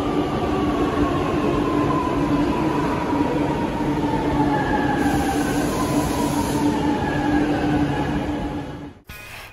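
Chennai Metro train running from Chinnamalai station, a steady rumble and rolling hiss with gliding whine tones, heard from inside throughout before a sudden thump near the end.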